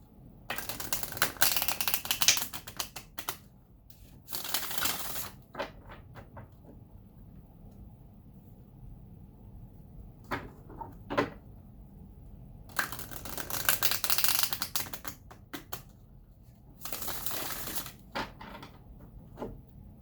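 Bursts of quick, crisp tarot card riffling alternate with softer shuffling and tapping, close and fairly quiet, with no talking.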